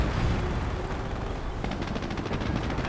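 Artillery and small-arms gunfire crackle in a WWII strategy video game battle, a dense wash of distant shots and blasts with a burst of rapid reports in the second half; no voices.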